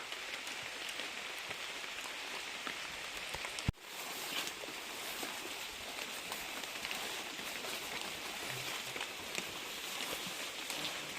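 Steady rain falls on a forest campsite, a dense continuous patter with one sharp knock partway through, with no voices.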